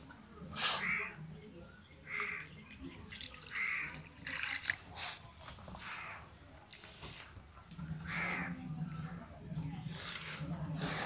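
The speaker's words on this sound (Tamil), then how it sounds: "இதோட தண்ணியாக கரைச்சிப்போம். தண்ணியை ஊற்றி" Water runs and splashes in short bursts as it is poured into a pot of sago mixture, with faint birds and other outdoor sounds in the background.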